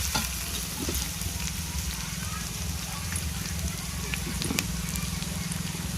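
Onions frying in a pan until light brown for cauliflower-potato chop prep, a steady close sizzle and crackle with occasional spatula stirs running throughout.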